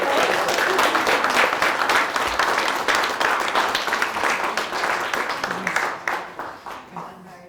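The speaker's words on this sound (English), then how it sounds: "can we all just give a big round of applause?" An audience gives a big round of applause, with dense, steady clapping from many hands that thins out and fades over the final couple of seconds.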